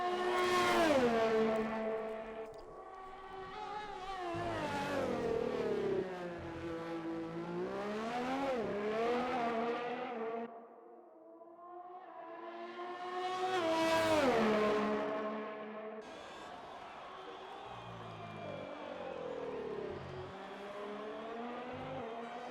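Rallycross race cars on track during a session at the round 9 event in Austria, engines climbing and dropping in pitch as they accelerate and sweep past, several loud passes with a brief quieter gap between them and no voices.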